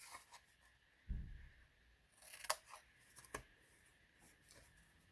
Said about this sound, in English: we're going to cut this smaller square off here